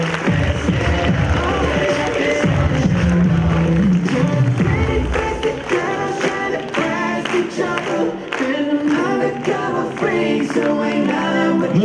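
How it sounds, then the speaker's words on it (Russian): Loud audience applause at a university master's programme evening event, a thick wash of many hands clapping mixed with cheering and crowd voices, sustained for around twelve seconds. "Громкие аплодисменты также."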